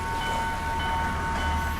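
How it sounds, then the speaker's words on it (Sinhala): A train rolls past a railway crossing near Pidurangala in Sri Lanka, heard from a waiting motorbike on an early morning ride as a continuous close rumble of wheels and carriages with a faint steady tonal whine. "අයියෝ ට්‍රේන් එක සෙට් වුණා දැන්."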